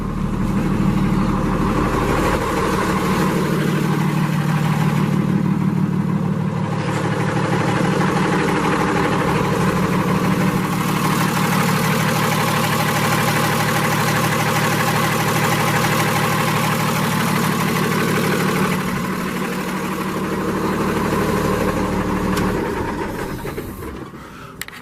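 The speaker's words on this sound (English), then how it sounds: "We'll fire it up here for you just to take a quick listen." A 2017 Freightliner Business Class M2 106 truck with a Cummins engine and automatic transmission idles nearby in a steady, deep, even rumble that holds for a long stretch with no talking.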